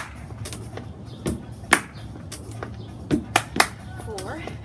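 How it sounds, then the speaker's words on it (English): In a step aerobics workout, a few sharp hand claps land at uneven intervals, some close together, over faint background music, with an instructor talking between them. "Give me one clap."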